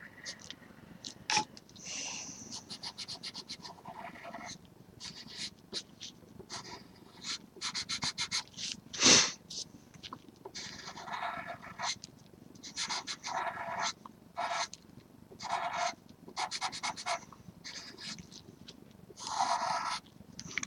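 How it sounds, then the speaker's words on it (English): A cat purrs close by in an uneven, breathy rhythm of soft bursts and pauses over about twenty seconds, with one louder snuffle midway. "And I love your kitties."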